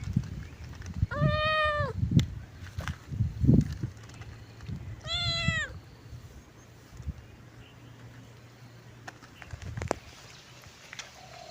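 A cat meows outdoors, two clear drawn-out cries a few seconds apart, set against faint rustling and ambient outdoor noise.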